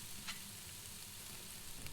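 Meat searing in olive oil in a hot pan for fajita taco bowls, a steady close sizzle and crackle running throughout with no talking.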